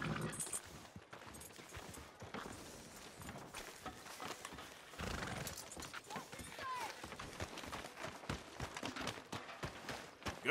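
Horse hooves clop at a walking pace in the Red Dead Redemption 2 video game, faint and continuous under voices talking over scattered background game sounds.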